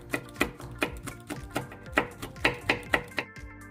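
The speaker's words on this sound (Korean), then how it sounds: "홍고추 1개를 반으로 갈라 썰어주세요" A knife cutting a halved red chili pepper on a cutting board, about a dozen crisp, evenly spaced chops close by with no voices.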